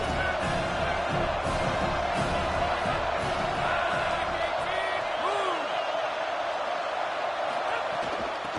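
A college football stadium crowd roars in a broad, continuous wash of cheering and shouting during a game against Kentucky, loud and steady throughout, with scattered whistles and whoops rising from the mass.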